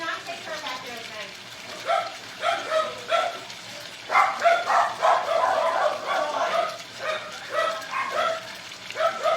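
Several dogs in a busy household bark and yip in repeated bursts, close and loud, some barks overlapping with whimpers, continuing steadily across the whole stretch.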